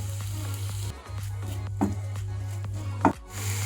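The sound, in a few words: chicken added to pan with onion and tomato, frying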